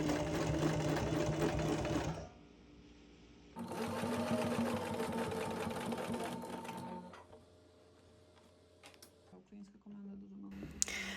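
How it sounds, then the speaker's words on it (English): A sewing machine top stitches the cuff of a shirt sleeve, running in a steady whirring buzz, pausing briefly, running again for several seconds, then stopping amid faint handling clicks. "And finally, we will top stitch the cuff, ensuring that the lower edge, the inner edge of the cuff, is also attached with this seam."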